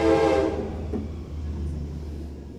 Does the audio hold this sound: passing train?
yes